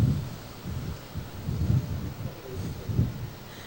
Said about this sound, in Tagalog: patuloy pa rin na malakas yung hangin at yung ulan, Katrina?